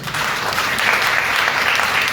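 Sustained applause from a seminar audience in Delhi, dense clapping from many hands that continues without pause, loud and close, with no talking over it.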